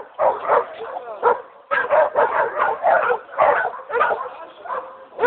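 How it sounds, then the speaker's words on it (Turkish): Pit bull dogs bark, yip and whimper in close, repeated bursts, several dogs sounding in quick succession without pause. "Bütün güzel köpekler burada."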